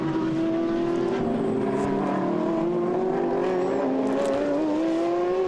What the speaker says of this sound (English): the white and green Porsche is now being pushed very hard indeed by Massimiliano Bianchi's Ferrari